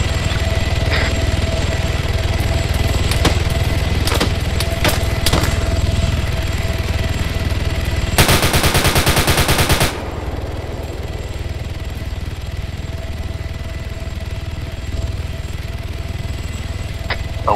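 A burst of rapid automatic gunfire in ARMA 3 rattles out as a dense, fast string of shots over a constant engine-like drone, with a few isolated single cracks before it.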